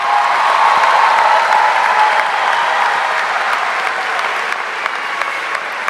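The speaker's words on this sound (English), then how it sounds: "please give one more round of applause for all of these remarkable young people" A large crowd at a high school commencement applauds its graduates with loud, continuous clapping and a hint of cheering. The sound holds steady for several seconds before easing slightly.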